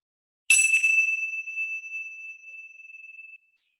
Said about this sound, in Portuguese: e o sininho para terminar